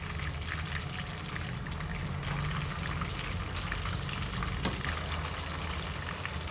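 Chicken kebab sticks frying in oil, a dense, steady bubbling sizzle held at an even level throughout, with one brief clack near the end and no talking.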